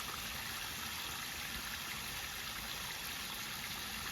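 Water flowing over the spillways of a pondless waterfall at a home's front door, a steady, soft, even rush of splashing water heard from close by without pause, with a faint constant hum above it.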